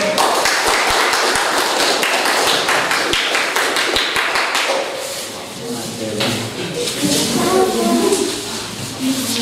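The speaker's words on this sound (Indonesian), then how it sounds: "tepuk tangan untuk kelompok 1" A group of students in a classroom clap rhythmically in unison for the first team, loud, closely spaced claps for about five seconds, then fading into chatter and voices as the group prepares to present.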